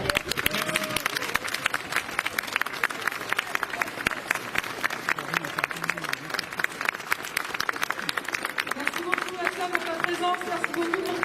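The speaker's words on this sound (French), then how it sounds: "En tout cas, vous pouvez les applaudir très fort." A crowd at a Paris street protest rally against unemployment insurance reform claps continuously for several seconds, dense and steady applause with murmuring voices mixed in.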